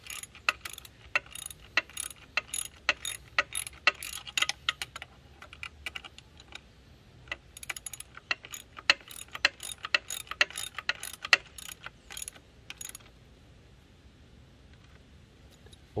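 A ratchet wrench clicks in rapid bursts while tightening the left-hand-thread crank nut on a bicycle pedal kit, close and dry, with pauses between runs of ratcheting and a quiet stretch at the end.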